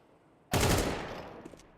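Counter-Strike gunfire in a professional esports match: a sudden loud burst of rapid shots that trails off into echoing decay, with a faint extra click near the end.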